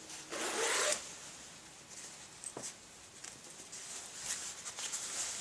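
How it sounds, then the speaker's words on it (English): A Gucci Kayway lightweight jacket with GG logos is unzipped: a quick, close zipper rasp in the first second, followed by faint fabric rustles and soft handling clicks. "Go ahead and unzip this."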